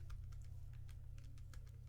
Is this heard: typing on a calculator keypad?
yes